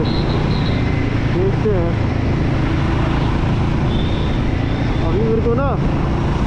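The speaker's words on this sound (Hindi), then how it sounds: "अपनी बाइक की जो आवाज़ आ रही है ना बहुत प्यारी आवाज़ आ रही है" A Royal Enfield Guerrilla 450 motorcycle engine drones steadily while riding on a highway, a constant loud rumble mixed with wind and road noise throughout, with the rider talking over it.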